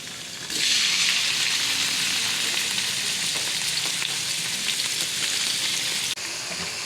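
Chicken pieces hit a hot pan and burst into a loud, steady hiss of frying that holds evenly, with a few faint clicks and a brief thump near the end, heard close with no voices.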